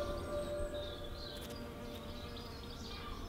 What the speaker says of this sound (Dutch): Als bijen wakker worden en op zoek naar nectar gaan.